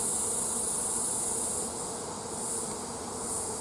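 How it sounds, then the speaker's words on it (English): Honey bees hum around an open hive in a continuous, dense, close buzz that swells and dips slightly, with no voices. "There are a few bees there."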